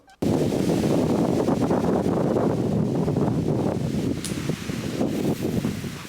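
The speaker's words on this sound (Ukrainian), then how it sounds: "А зараз сухо, проте вітер був передштормовий." Strong pre-storm wind buffets the microphone on a gravel bike ride, a loud, constant roaring rumble that starts abruptly and continues unbroken.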